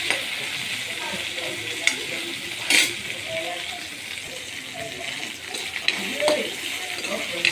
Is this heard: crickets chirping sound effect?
no